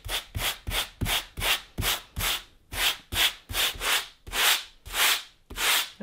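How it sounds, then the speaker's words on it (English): An orbital sander rasps over concrete on a wood stove hearth in a steady rhythm of repeated strokes, each pass swelling and fading, close and fairly loud with no voices. "we're going to do some sanding with the orbital sander."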